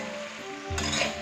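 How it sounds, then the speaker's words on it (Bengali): Chili fish pieces are tossed in sauce in a hot pan, giving a soft, steady sizzle with a brief scraping stir and a light clink of utensils near the end. "আর এদিকে এটা সসের সাথে একটুখানি টস করে নেব"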